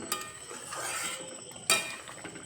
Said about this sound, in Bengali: ঢাকনা তুলে দিলাম এবার দেখে নেব মসুর ডাল আর পেঁপে সেদ্ধ হয়েছে কিনা